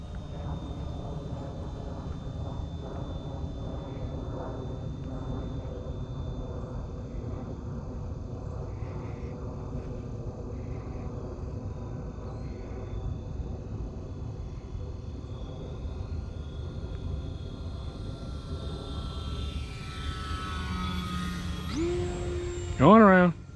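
An E-Flite Clipped Wing Cub RC model airplane flies in to land, its small electric motor a steady distant drone that grows louder near the end, with some talk.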